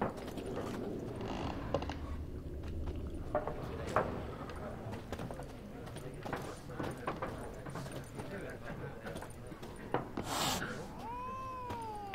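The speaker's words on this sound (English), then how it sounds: "We have a cat." Cat meows in the Witcher 3 video game, a few short mewing calls near the end heard over busy game ambience with footsteps, clinking and background voices.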